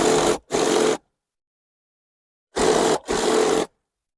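A sewing machine stitching a seam joining trouser panels, running in two short double bursts of whirring with a silent pause between them, close by.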